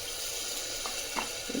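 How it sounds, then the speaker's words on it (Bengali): Water pours steadily into a pan of dal, a continuous broadband wash with a few brief brighter splashes near the end, close and moderately loud with no talk. "জল দিয়ে দিচ্ছি।"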